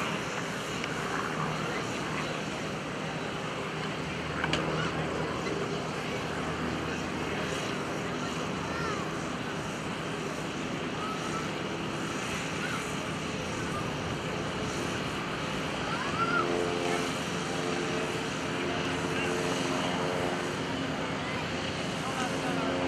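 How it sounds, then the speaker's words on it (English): An RV aerobatic airplane's engine drones continuously at the Greenwood Lake airshow, a distant, fairly faint roar that swells slightly at times, with a crowd and public-address talk mixed in. "he's going to turn that airplane around and crank it up for your entertainment"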